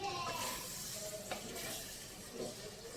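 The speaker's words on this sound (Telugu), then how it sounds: "కొంచెం వేగాలండి, ఇది కొంచెం వేగితే బాగుంటుంది." Mutton curry with onion paste, masala paste and tamarind leaves sizzles and fries in a pan, a soft continuous hiss with occasional stirring scrapes, heard quietly up close.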